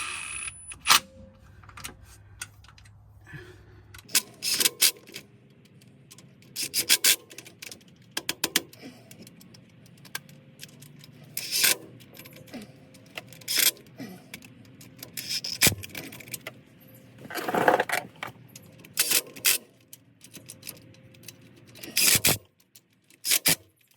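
Bolts, nuts and washers being snugged up while installing rear gears in a Tracker, heard as scattered metallic clinks, rattles and ratchet-like bursts with quiet gaps between, close by and without speech.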